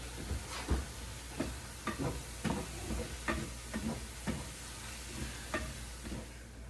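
Bacon sizzling in a pan, its grease crackling at a moderate level, broken by repeated soft pops and scrapes as a utensil moves the strips, close by and with no voices.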